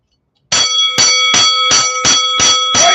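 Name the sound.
fight bell ringing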